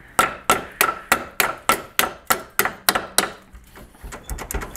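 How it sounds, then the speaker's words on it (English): A hammer strikes metal on a 2005 EZGO TXT gas golf cart's sticking brake about a dozen times in a steady rhythm, each blow sharp and ringing close by, then a few lighter, quicker taps. "I'm just having a hard time swinging the damn hammer"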